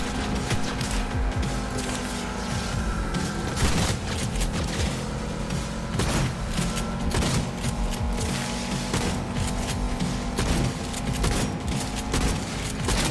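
Shotgun fire in the video game Cyberpunk 2077 plays as a dense, loud, continuous barrage of blasts and clattering mechanical noise, sustained throughout without pause and with no talking.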